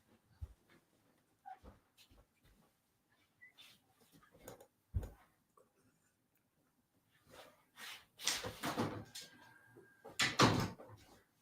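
Scattered soft knocks and thumps, then a door is opened with rattling and creaking, followed by a louder clunk.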